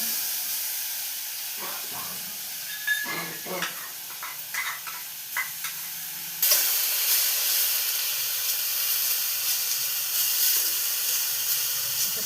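Grated fresh coconut cooking in ghee over medium heat for ukadiche modak filling, stirred with a few soft scrapes and taps, then a steady close sizzling hiss settles in and continues to the end.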